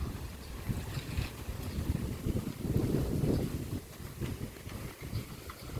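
Strong wind gusts buffet the microphone outdoors on a rural mushroom-foraging outing, a low rumbling roar that swells and fades in uneven pulses, loudest near the middle.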